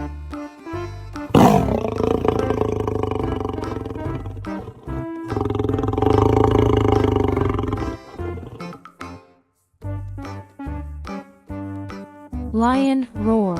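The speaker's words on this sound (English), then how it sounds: "Lion roar." A cartoon lion roars in long, loud, rumbling bursts over bouncy children's music, with a brief pause before shorter roars at the end.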